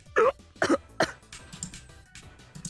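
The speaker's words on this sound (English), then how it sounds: "I take a breath and immediately start coughing." A person coughs and clears their throat in a few sharp bursts after breathing in a thick cloud of flour, close and fairly quiet, with no talking.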